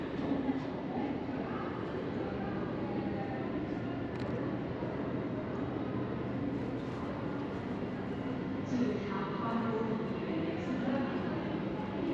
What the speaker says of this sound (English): The train was about to depart